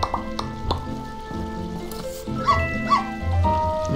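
Dog from the video game My Time at Portia barking in short, sharp yips and bow-wows, several quick barks close by with a whimpery tone and small squishy game sounds behind.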